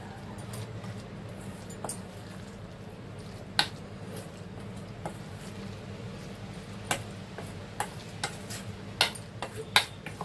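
Stirring and mixing a bombay duck (bombil) fish ball mixture with bread crumbs, soft squishy scraping under a low background hum, punctuated by occasional light clicks of a utensil against the bowl.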